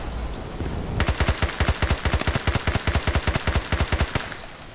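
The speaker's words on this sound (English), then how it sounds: "Now we're gonna move on to close quarter tap firing." Rapid bursts of gunfire from Battlefield Play4Free, a steady close-range stream of about two dozen sharp shots starting after a second of quiet, loud and with no talk.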